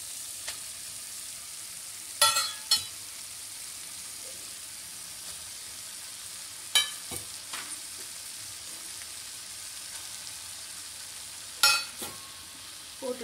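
Ragi noodles tossed in a pan with two ladles give a soft, steady sizzle and stir, broken by three sharp metallic scrapes and clacks of the ladles at even intervals, with no voices.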